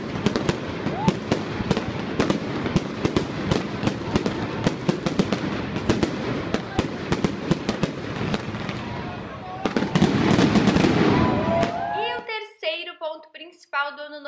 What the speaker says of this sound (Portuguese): todo momento em algum lugar estava explodindo lá os fogos